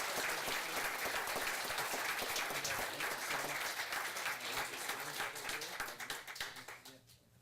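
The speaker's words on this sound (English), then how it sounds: "So give them one more round of applause." Audience applause at a Turlock city council meeting, a sustained wash of many hands clapping at moderate distance that tapers off in the final second.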